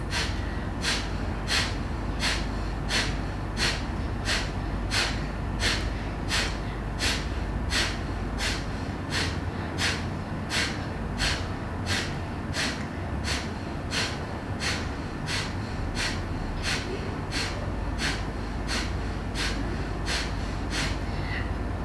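Intense, rhythmic breathing during a breathing exercise, quick sharp breaths repeating at a steady fast pace for about twenty seconds, close and continuous with no talking.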